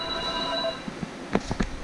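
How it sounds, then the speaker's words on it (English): A telephone rings on a Sunday with a steady tonal electronic ring lasting under a second, then fades, followed by a few soft knocks and clicks nearby. "the fucking phone's ringing again on a Sunday"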